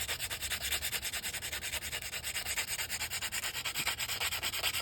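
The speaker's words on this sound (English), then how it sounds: "what you guys are watching me do is cleaning off the contact points" Rust being scrubbed off the contact points of a C20 heater, a close, loud, rapid back-and-forth scraping that repeats in a steady rhythm with no talking.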